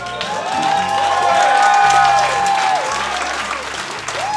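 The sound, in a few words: wedding guests applauding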